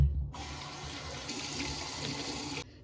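Tap water runs steadily into a sink while a face is rinsed during a skincare routine, a continuous close splashing stream that starts abruptly and cuts off near the end, with no talking.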